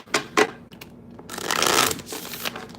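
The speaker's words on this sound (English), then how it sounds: "Cancer, one more shuffle." Cards for a zodiac reading are shuffled close up: a few sharp riffling bursts, then a longer rapid fluttering shuffle, with no talking.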